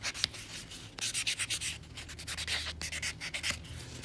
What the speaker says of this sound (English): I'm just filing off that top coat, roughing it up. And then we'll just take our buffing block real quick.